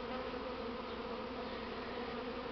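Buckfast honey bees hum steadily around a hive, a dense, continuous buzz from many insects close by with no other sounds.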